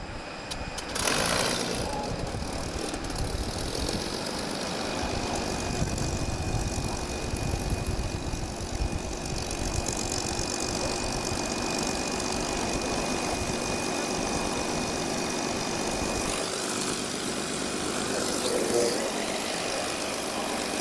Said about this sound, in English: That is the startup of a Rolls-Royce Merlin.